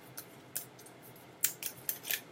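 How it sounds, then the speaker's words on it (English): A deck of tarot cards being shuffled produces quiet, sharp papery snaps and flicks, scattered at first and then clustering into a brisk run of crisp riffles. "we're gonna shuffle this deck until I pull out another 3 cards"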